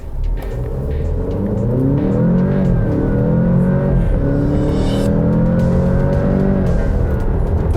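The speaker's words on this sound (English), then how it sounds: "There's a little bit of a whistling kind of noise from the engine as it spools up there" A 2021 Alfa Romeo Stelvio Veloce engine revving up hard through rising gears in dynamic mode, with a thin whistling whine climbing above the roar as it spools up; close and loud.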